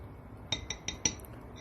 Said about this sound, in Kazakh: Сәл езілгенше араластырамыз.